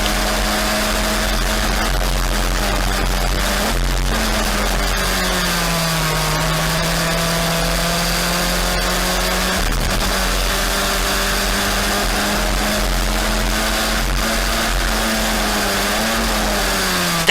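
Historic Formula Ford single-seater race cars at a circuit, engines droning loudly and continuously with shifting pitch as the cars run in a slipstream pack; no talking.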